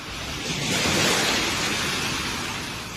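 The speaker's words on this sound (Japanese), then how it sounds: "波の音が聞こえる。" Ocean waves in a radio drama, a broad hissing surge that swells to a peak and slowly recedes, steady and fairly loud with no voices over it.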